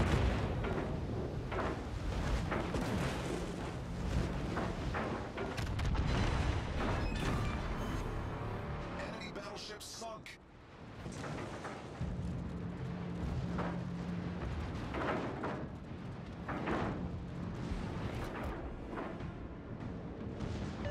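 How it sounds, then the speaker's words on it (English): Warship broadside guns firing in the naval video game, a sustained roar of heavy booming shots and rumbling explosions that rises and falls over many seconds, with a brief lull midway. "Trying our broadsides?"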